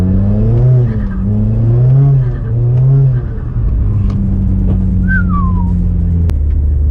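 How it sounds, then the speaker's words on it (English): A turbocharged Genesis Coupe sports car engine rumbles and rises through the gears, close and loud, with a brief whistling turbo whine near the end. "Hopefully you guys can hear the turbo because this thing sounds magnificent."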